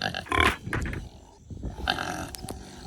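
Pigs in a muddy farm paddock giving low, rough grunts and snorts close by, in several irregular bursts with quieter gaps between them.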